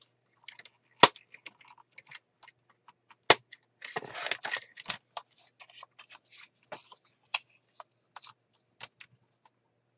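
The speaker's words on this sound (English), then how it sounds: "And then I'm just going to trim this down." Paper being trimmed for a Christmas journal in a craft session: scattered quiet snips and rustles, with a few sharper clicks and a brief denser burst of cutting noise midway, close and alone without talk.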